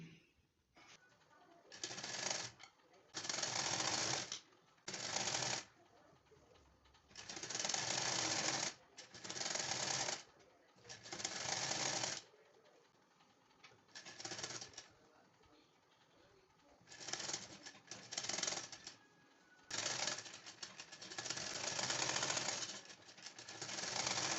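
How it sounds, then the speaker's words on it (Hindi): A sewing machine stitches blouse fabric in repeated bursts of fast, rattling mechanical chatter, each lasting a second or two and separated by short pauses, heard up close. "मैं इसको भी पूरी सिलाई लगाकर आपको दिखाती हूँ"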